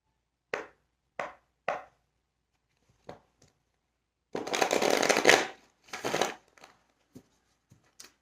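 Oracle cards being shuffled by hand: three short riffles, then a longer burst of shuffling, with scattered soft taps and handling noises between them, close and fairly quiet with no talk.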